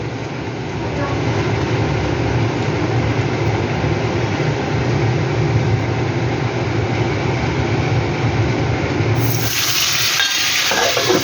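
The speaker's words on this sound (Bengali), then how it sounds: "এবার আমি মাছগুলো দেবো। এই মাছ বহুত ফাটে।" Papda fish frying in hot mustard oil in a pan, a dense, steady, crackling sizzle close by for about nine seconds before the sound shifts abruptly near the end.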